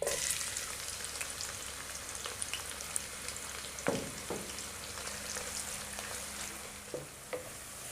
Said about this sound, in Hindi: इसके अंदर प्याज को फ्राई करेंगे